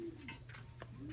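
Pigeons coo softly in a loft, a few low murmuring calls close by over faint background hum.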